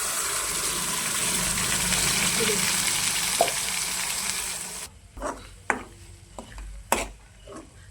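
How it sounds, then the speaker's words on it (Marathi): Spice masala frying in hot oil for a village-style goat mutton curry, a steady dense sizzle for about five seconds, then cut to quieter stretches with a few sharp stirring scrapes and clinks. "आता हे मसाला टाकून घेते त्याच्यामध्ये तळून घ्यायचा"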